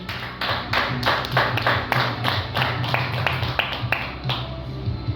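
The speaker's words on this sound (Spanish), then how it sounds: "¿Cuánto le dan un aplauso fuerte al Señor?" A church congregation applauds in rhythmic, steady claps, the sound filling the room at close range over a low continuous hum, with no voices standing out above it.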